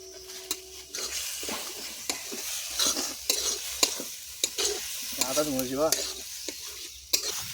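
Egg curry masala sizzles and is stirred in a pan, with a steady fry hiss broken by repeated scraping strokes and utensil clinks, close and moderately loud.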